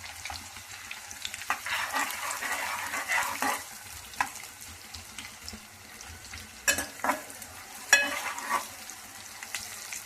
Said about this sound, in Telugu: ఇప్పుడు మనం ఉల్లిపాయలు మొత్తం అయితే వేసేసుకొని అట్లా కలుపుకుందాం.